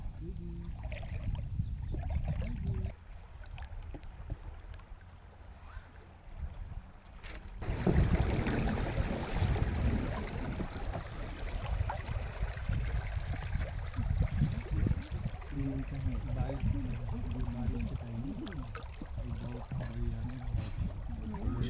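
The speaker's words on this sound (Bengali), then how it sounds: "পানির শব্দ।" A jungle river in Nepal flows with a broad, rushing wash of water, quieter at first and then swelling into a louder, steady roar mixed with wind buffeting.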